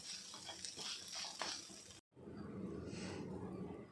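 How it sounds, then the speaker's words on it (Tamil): Grated coconut and spices dry-roast in a pan for Udupi rasam, with scraping stirs and a soft sizzling hiss, broken by a brief cut before the gentle roasting continues. "தேங்காவை கடைசியாக போட்டு வறுத்துக்கலாம்"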